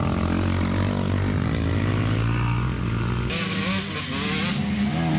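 Dirt bikes race past in a kids' cross-country and motocross event, their engines a loud, continuous drone with shifting pitch as riders accelerate and pass close by.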